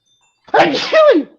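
One sharp sneeze up close in a quiet room, a quick intake followed by a bright, bursting release lasting under a second.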